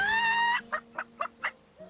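A rooster in the video game Divinity: Original Sin gives a drawn-out call followed by four short, evenly spaced clucks, close and clear with no talking.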